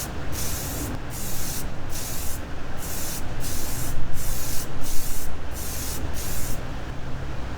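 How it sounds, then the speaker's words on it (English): Spray paint hisses out in a thin layer of dark brown onto an RC car, a close, loud spray in roughly ten short bursts with brief gaps between them, the last burst trailing off. "Spray a thin layer of dark brown."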